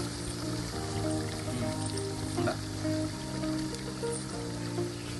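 Marinated tilapia frying in a pan, a continuous dense crackling sizzle, close and even in level, over a low steady humming drone.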